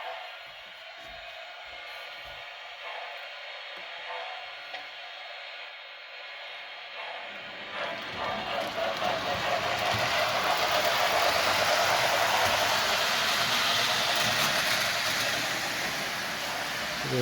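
A Rail King Bantam 4-8-4 J steam engine model train pulls Lionel cars, including a lighted caboose, quiet at first with faint clicks, then a loud whirring, rushing rumble builds as it passes close by.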